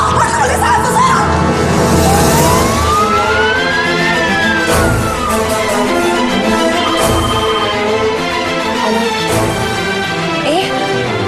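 A loud ambulance siren wails with rising and falling tones over busy street noise, the emergency vehicle passing close by.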